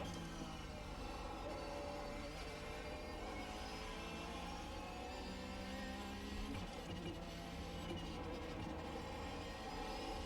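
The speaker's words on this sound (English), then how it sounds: "Love the sounds of those straight cut gears." Race car in the iRacing video game, its engine droning steadily with a whine from straight-cut gears, dense and continuous at moderate level with no talk.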